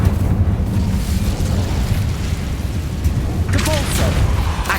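An Incendio fire spell bursting in Hogwarts Legacy: a heavy, booming blast of flame fills the clip, loud and close, with a rumbling roll and a brief crackling flare near the end.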